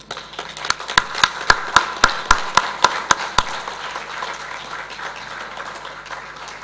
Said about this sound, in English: May I request all of us stand up and give a round of applause.